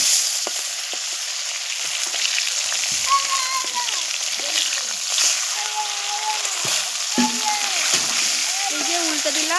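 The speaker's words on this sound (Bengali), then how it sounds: "একটু লাল লাল করে ভেজে নেব।" Katla fish pieces fry steadily in hot oil with a constant close sizzle and scattered pops, while a person talks quietly over the cooking.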